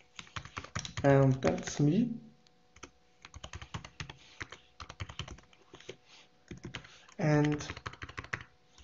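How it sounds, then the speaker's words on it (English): Quick, close clattering of keys on a computer keyboard while writing Linux kernel module code, the typing running in short bursts around and between a man's speech. "I really can't type today"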